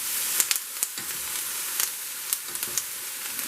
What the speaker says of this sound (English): you want to turn it down, your stove, to medium-high, and give these a good stir